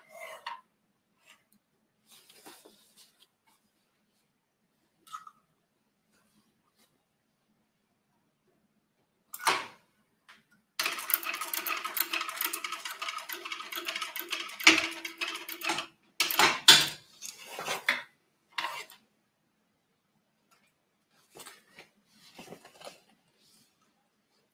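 A sewing machine stitches a bag in short bursts, a quiet buzzing run in the middle with scattered clicks and handling noises before and after.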